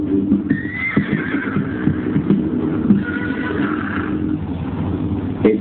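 Horses in a stable whinny twice in long, rising neighs over scattered hoof thuds and stall knocks, close and fairly loud.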